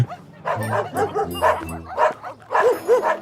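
Cartoon dogs bark and yip inside a building full of dogs, several excited barks and whimpers overlapping in quick succession, close and loud.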